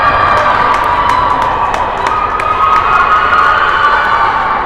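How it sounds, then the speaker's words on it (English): Crowd cheering wildly in an ice hockey arena after a goal, loud sustained roar with shouting and sharp whistles and bangs scattered through it. "Crowd is going wild here at St."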